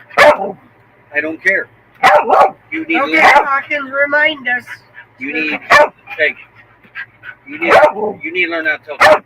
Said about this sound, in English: Over this loud, obnoxious dog next to us.